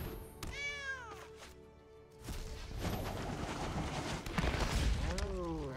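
A cat meows when a Sacred Cat card is played in the digital card game MTG Arena, two drawn-out meows with another near the end, set over rising game effects and a low impact rumble.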